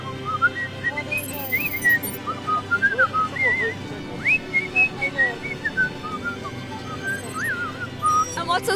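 Someone whistles a lively, wandering tune up close, clear warbling notes rising and falling over a faint low background hum.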